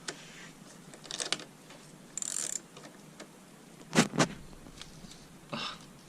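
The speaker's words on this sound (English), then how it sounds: "now I'm going to use the 10mm socket to remove the nut on the positive battery cable" A 10mm socket ratchet clicks in a few short bursts as it loosens the nut on a Honda Odyssey's corroded positive battery cable, with quiet gaps between the close, sharp mechanical clicks.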